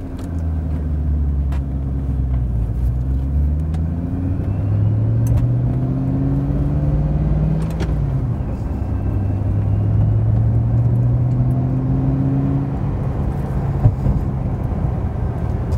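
A 2006 Ford GT supercar engine while driving, a deep continuous rumble whose pitch rises and falls through several gear changes, loud and close with no talk over it.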